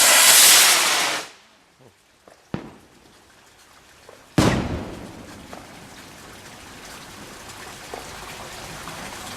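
The biggest firework rocket of a Bonfire Night display goes off, a loud hissing rush that fades, then scattered pops, a sharp crack and a louder burst with crackling tail, outdoors at a distance.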